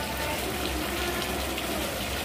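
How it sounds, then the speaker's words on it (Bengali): Water pours steadily into a cooking pan of Bengali jackfruit and prawn curry with garlic, onion and ground spices, a continuous close gushing splash at even loudness for the whole moment. "জলটা দিয়ে দেবো।"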